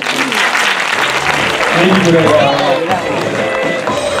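Audience at a festival event applauding the jury, a dense, steady burst of clapping that fills the clip, with voices and chatter mixed into the crowd noise.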